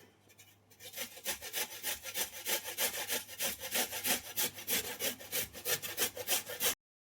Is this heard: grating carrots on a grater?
yes